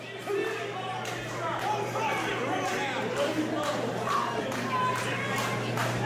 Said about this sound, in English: Crowd starting to come alive